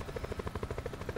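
A helicopter in the Call of Duty Blackout battle royale game, its rotor beating in a steady fast rhythm of evenly spaced chops, close and fairly loud throughout.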